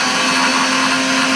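A mixer grinder runs steadily with its lid on, grinding mango pickle ingredients with a few spoons of oil, a continuous loud whirring motor hum with no pauses.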